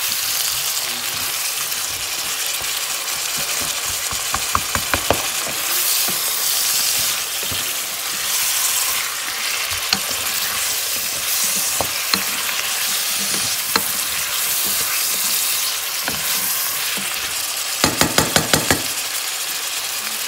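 Frozen leeks and other vegetables sauté in a hot pan, a steady loud sizzle and hiss running throughout, broken by occasional knocks and scraping stirs of a utensil against the pan.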